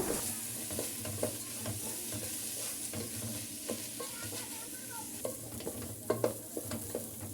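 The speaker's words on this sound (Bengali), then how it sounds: "আমি এখন ভালো করে ভেজে নেব পলস চাইল আর আদা রসুন সাথে একসাথে মিক্স করে আমি ভেজে নেব" Rice for chicken biryani fries in a pan with ginger-garlic paste and salt. It gives a soft, steady sizzle broken by frequent scraping stirs, with a few sharper clinks near the end.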